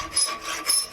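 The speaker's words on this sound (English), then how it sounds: "So I'm gonna use a flat file and make the tenon fit the hole." A flat file rasping a forged steel tenon, two quick close scraping strokes with a gritty, hissing texture.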